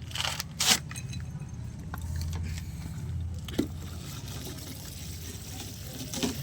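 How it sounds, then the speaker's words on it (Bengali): A watering can pours water at the base of a potted rose just repotted into cinder medium, giving a steady, close splashing trickle that runs without a break throughout. "ঝাঁঝরিতে করে গোড়ায় দেব, তাতে সিঙ্গারের কালারও বদলে যাবে।"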